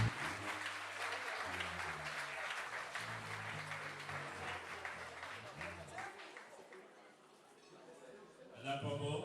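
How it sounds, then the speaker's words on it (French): Wedding guests applaud at a civil marriage ceremony, a steady wash of many hands clapping that thins and fades, with a voice breaking in near the end. "J'invite, mesdames, messieurs, sous vos applaudissements, Madame Pambo."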